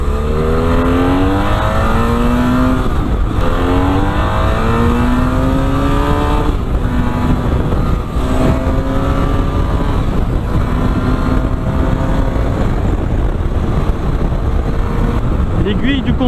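A BMW F 800 R twin-cylinder motorcycle engine pulls hard through the gears, loud rising revs climbing in repeated sweeps with short dips at each shift, mixed with heavy wind rush.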